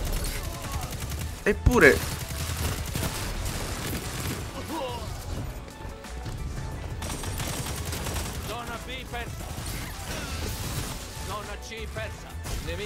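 Rapid automatic fire from the Decisore Oscuro rifle in Destiny 2, a dense continuous stream of shots with a sharper burst near the start, running under someone talking throughout.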